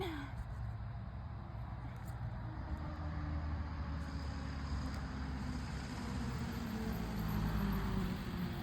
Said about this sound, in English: Oh, we got the school bus.